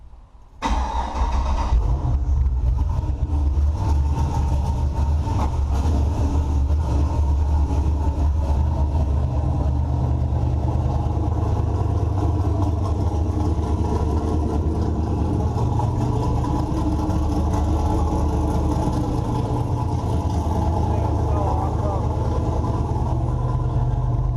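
A car engine on a Holley system, with the alternator not yet wired and the battery low, cranks briefly and catches, then settles into a steady, loud, close idle with a deep rumble that runs on without pause.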